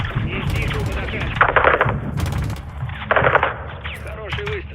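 Rapid automatic gunfire and single rifle shots from a Call of Duty Modern Warfare 2 campaign battle, loud bursts repeating in clusters over a dense background of battlefield noise with voices in between.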